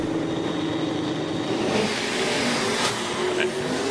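Drag racing cars launching down the strip, including a big block Chevy, with loud revving engine roar under a continuous crowd and announcer-style commentary.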